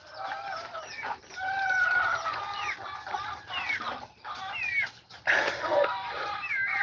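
Chickens and a rooster being fed on a farm in Aklan, clucking and calling continuously at close range with overlapping busy squawks and no talking.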